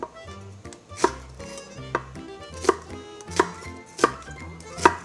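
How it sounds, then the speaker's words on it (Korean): A knife dices an onion into cubes on a cutting board, about six crisp, evenly spaced chops up close, each a sharp thud over faint background hum. "다음으로 양파 하나도 깍둑 썰어 준비해 주세요."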